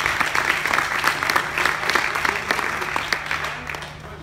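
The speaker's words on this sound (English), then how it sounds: "let's give them a huge welcome and round of applause" An audience claps warmly to welcome a panel at a journalism festival, the broadband applause sustained and steady throughout with individual claps standing out, and a low constant hum running beneath.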